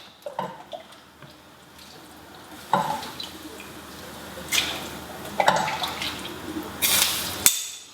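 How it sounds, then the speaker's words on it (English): Chicken with herbs in a cooking pot receiving more stock, with soft watery pouring and splashing bursts scattered among light clinks and handling noises, fairly close and fairly quiet, with no talking. "we just need a little more stock to add a bit more moisture to that"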